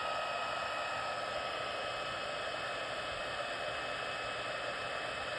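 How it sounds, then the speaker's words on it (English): A heat tool blows steadily to melt embossing powder on cardstock, a continuous loud hairdryer-like whoosh with an electric whine, unbroken throughout. "Heating from behind will help to keep from blowing your embossing powder around while you're waiting for it to melt."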